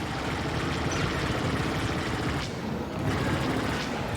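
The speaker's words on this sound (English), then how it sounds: "Rotary cannon shredding those AI" A video-game rotary cannon fires in one continuous, roaring stream of rapid shots, dense and loud throughout, dipping briefly midway before resuming.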